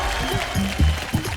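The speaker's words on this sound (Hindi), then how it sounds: "तालियां आदू के लिए।" A studio audience at a stunt game show claps for a contestant's balancing feat, a loud burst of applause with a few sharper claps standing out, heard alone without talk.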